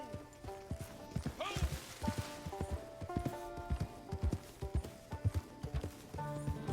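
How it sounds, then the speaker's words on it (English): Horse hooves clip-clop at a steady walking pace in Red Dead Online, close and fairly loud, with an occasional snort and no talk over them. "this is not a place for a horse to be walking through"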